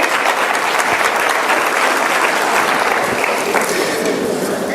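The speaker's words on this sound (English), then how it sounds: "Let's give them a round of applause." A round of applause from the audience at a general session, continuous dense clapping at a steady level from start to finish.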